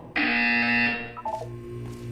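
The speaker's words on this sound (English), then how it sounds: "When you hear the buzzer, look down at the floor" Loud electronic buzzer from the Portal 2 video game sounds for nearly a second, then drops into a few softer tonal blips and fades under a low hum.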